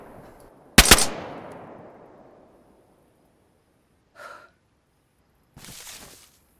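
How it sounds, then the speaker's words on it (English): A single loud gunshot rings out at an airfield in the survival game DayZ, its sharp crack trailing into a long echoing decay, followed by two soft breathing sounds in the quiet. "I'm alone at Northwest Airfield where there's quite a few gunshots"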